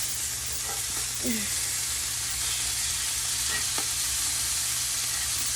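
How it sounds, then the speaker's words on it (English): Chicken wings simmering in a mango jalapeño sauce in a cast iron pan, a dense, even, close sizzle held steady throughout with a few faint clinks beneath. "I'm going to let it just simmer in that sauce to finish cooking"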